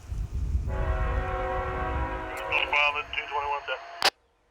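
Freight train M221 rolls in on a siding, a long sustained horn chord sounding loud and near over rumbling wheels, with a sharp clank near the end before it cuts to quiet.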